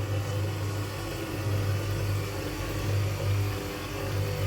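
An electric mixer beats butter with icing sugar for a birthday cake frosting, giving a steady, droning motor whir with a low hum that barely rises and falls, with no voices over it.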